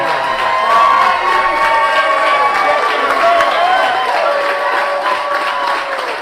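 A stadium crowd in Seattle cheers, whoops and claps to welcome a new coach, a loud, dense roar sustained throughout with shouting mixed in.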